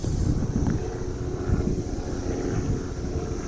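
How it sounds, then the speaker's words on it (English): Helicopter passing overhead near a fishing spot, a steady low rotor and engine drone that holds fairly loud and even throughout, with no talking. "There comes another helicopter."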